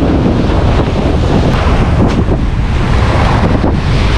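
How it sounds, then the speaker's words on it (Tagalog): Strong wind at sea roars across the microphone in a steady, loud rush, with a broad churning hiss like open water underneath and no voices. "Uminit nga pero lumakas naman yung hangin."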